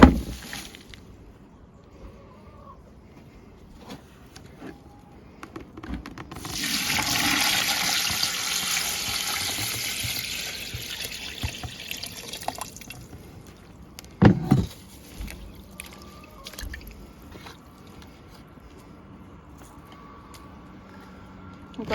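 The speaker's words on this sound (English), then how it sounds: "Once they're broke up, I'm just going to pour over some rainwater." Rainwater pours over crushed homemade fertiliser ingredients in a container, a rushing gush of water lasting several seconds before tapering off, followed by a few knocks and faint handling sounds.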